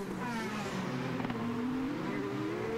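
An IndyCar race car engine runs steadily during a 2012 Long Beach street race, its sustained mechanical drone holding nearly constant at a loud, close level for the few seconds heard.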